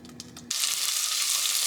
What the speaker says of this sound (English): I added the onions. I'm just going to give them a quick little saute.